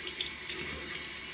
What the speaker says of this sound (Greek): μπορούμε να τους ρίξουμε λίγο νερό